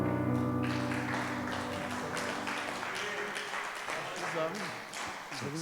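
Congregation applauding during a church service, a sustained spread of clapping that starts over a fading sung note and continues steadily, with a voice speaking over it.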